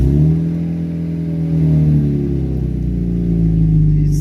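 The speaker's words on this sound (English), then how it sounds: "This car is running on fully. The engine is running on the Fueltech." A Chevy Cruze engine running on a Fueltech 450 standalone ECU gives a loud, close, steady drone with a slight rise in revs partway through, and no voices.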